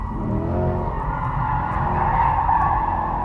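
Tires on a 2024 Corvette E-Ray hybrid AWD squeal continuously as the car understeers at high speed, a loud sustained skid over a steady engine drone, close and without talk.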